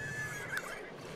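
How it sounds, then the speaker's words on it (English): A horse whinnies in The Sims 3, a short faint neigh rising briefly over a steady background bed of game ambience. "Hey, look, a horse."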